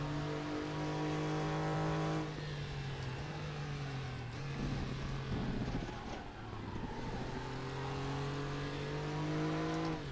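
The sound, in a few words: Porsche race car engine revving in RaceRoom video game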